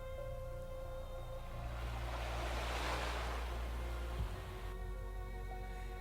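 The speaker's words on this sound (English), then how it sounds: "I seem to hear the sounds of waves again." Ocean waves in the SnowBreak video game, a soft steady wash of surf that swells in the middle and eases back over a low constant hum.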